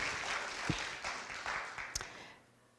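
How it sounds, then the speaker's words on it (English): An audience applauds volunteers at an event, a dense patter of many hands clapping at moderate distance with a few sharper claps, fading away at the end. "Give a big round of applause, please."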